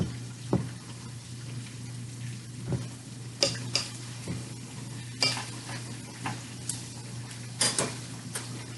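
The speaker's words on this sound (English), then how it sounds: "He's gonna give it a good mix." Brownie batter mixed by hand in a bowl, with a series of soft scrapes and occasional sharper clinks of the utensil against the side, close and fairly quiet.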